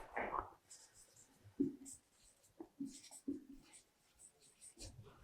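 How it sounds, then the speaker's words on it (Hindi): Chalk or marker taps and scratches in short bursts as a sentence is written on a classroom board, faint and close, with a teacher's quiet talk mixed in. "मैं लिखता हूं एक सेंटेंस."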